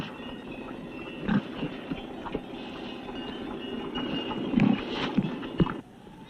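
Pigs kept in old cave dwellings in the small Chinese village of Tachai give scattered grunts and oinks over a constant low rumble, with several louder close snorts toward the end.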